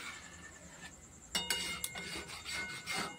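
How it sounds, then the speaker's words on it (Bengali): A spoon scrapes and knocks softly against a pot as milk is stirred continuously for sweet yogurt, faint rubbing broken by a few light clinks, close and quiet. "দুধটাকে অনবরত এইভাবে নাড়তে হবে"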